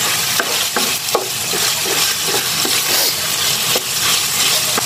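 Pinakbet vegetables being stirred in a frying pan, a steady sizzle of frying under repeated scraping and clacking strokes of a utensil against the pan, close and continuous with no talk.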